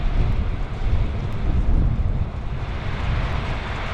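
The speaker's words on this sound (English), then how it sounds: "It is very, very windy." Strong wind roars steadily across the microphone at Penn's Landing, Philadelphia, a loud, low rumbling buffet with gusts swelling and easing throughout.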